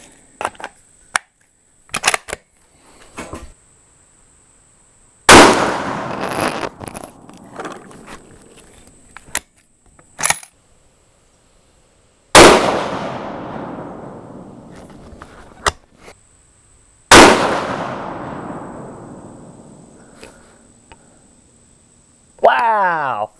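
Rifle fitted with a Boyd's Spike Camp stock fired at an outdoor range: three loud, sharp gunshots spaced several seconds apart, each with a ringing decay, plus small clicks and handling noises between them.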